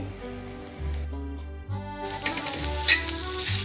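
Long-sliced onions fry in oil in a pan, with a continuous crackling sizzle and occasional stirring, over faint tonal background music.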